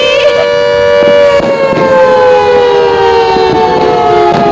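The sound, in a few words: siren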